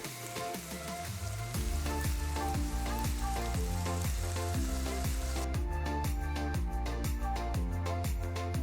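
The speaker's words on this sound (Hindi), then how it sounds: "अब इसमें शामिल करेंगे 1 कप बारीक कटा हुआ प्याज और अब हम इसे हल्का सा भून लेंगे" Steady sizzling of finely chopped onions frying in a pan under rhythmic, tonal backing music.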